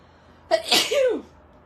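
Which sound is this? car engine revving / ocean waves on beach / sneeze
sneeze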